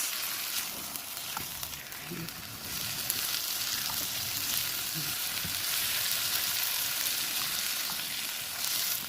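Chicken pieces fry in a pan until brown for a chicken curry. A steady, fairly quiet sizzle runs throughout, broken by occasional stirring clicks, and no one speaks.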